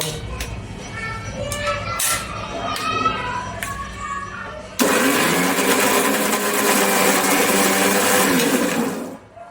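Electric mixer grinder jar whirring as it grinds sweet corn for a Kathiawadi masala, a loud steady motor roar starting abruptly midway after quieter kitchen sounds and voices, then cutting off.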